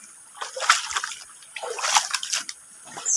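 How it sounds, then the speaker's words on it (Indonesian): A natural river flowing through forest, its water splashing and sloshing in close, uneven bursts with a light trickling texture, no voices over it. "Kita lihat aliran sungai."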